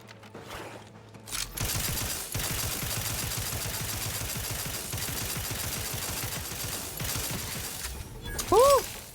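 Enemy gunfire in The Outer Worlds 2, a dense sustained barrage of rapid shots lasting most of the clip over game noise, with a brief louder hit near the end.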